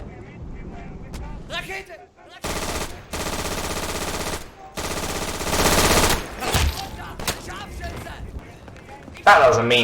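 An MG42 machine gun fires in long, rapid automatic bursts in the World War II shooter game Day of Infamy, loud and close, while someone talks over the gunfire.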